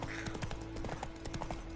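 Roach the horse's hooves in The Witcher 3 game, a quick run of brisk clip-clops close by, with faint voices in the background.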